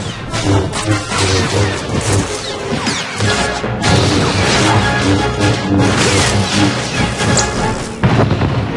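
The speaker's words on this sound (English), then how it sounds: "the trooper hits Iron Fist with a cryo grenade" A cryo grenade strikes the character Iron Fist during a Star Wars game battle, heard as dense, loud crashing impacts and booms layered over continuous combat noise and music, with no pause.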